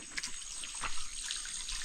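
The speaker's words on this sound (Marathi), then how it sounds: "हे बघा हा झरा असाच्या असा मे महिन्यापर्यंत असतो ते कमी होत नाही" Spring water trickles steadily near a village well in rural Konkan, a soft continuous watery wash with faint splashing flickers throughout, heard alone with no voices.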